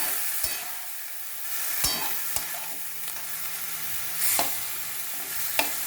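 Chickpeas are stirred and fried in a pan for a banana-stem curry: a low sizzle under scattered sharp scrapes and taps of a spoon against the pan.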